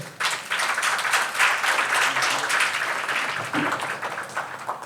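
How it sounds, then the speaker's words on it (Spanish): Sustained applause from a large crowd at a conference on sustainable taxonomy in Chile, dense and steady for several seconds, with no speech over it. "Un fuerte aplauso también para él."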